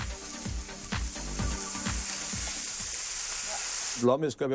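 Saddle of lamb browning in a hot pan during an Easter cooking class, giving a steady, fairly loud sizzle with rhythmic low thumps as it is moved and stirred, ending in a brief burst of clattering at the close.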